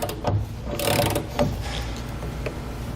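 Hardware being torqued down during a Curt 5th wheel round tube slider install on a 2019 Ford F-350 Super Duty: uneven metallic ratcheting clicks and tool handling, close and moderately loud, with short bursts and no talk.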